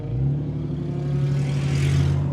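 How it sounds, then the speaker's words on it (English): A farm truck engine drones steadily with a low hum and rising whoosh as it passes close by, loud and continuous with no talking. "My buddy in the farm truck just drove by."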